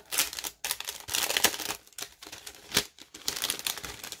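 A packet of Halloween key charms is torn open and rustled by hand, giving close, bursty crinkling and crackling in uneven bursts with short pauses, and no one talks.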